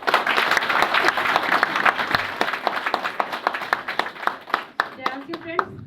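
Audience clapping at an indoor gathering, dense and steady at first, then thinning to scattered claps as a voice begins speaking near the end.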